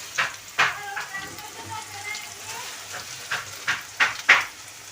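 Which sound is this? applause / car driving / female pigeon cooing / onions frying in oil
onions frying in oil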